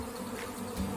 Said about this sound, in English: Bees on the backside are trying to figure out how to get in.